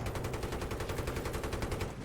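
Sustained machine gun fire in the video game Battlefield 3, a rapid, steady stream of shots hammering on for about two seconds with no talk over it.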